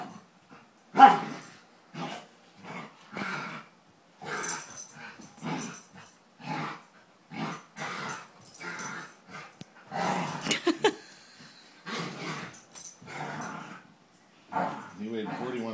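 Two dogs playing together, giving short barks, yips and whimpers in bursts, with people talking close by through much of it.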